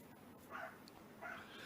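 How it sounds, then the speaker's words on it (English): A dog barks twice out on a balcony, distant and somewhat faint, with a short gap between the two barks and a low steady background hum. "Listen to my dog. He's so upset right."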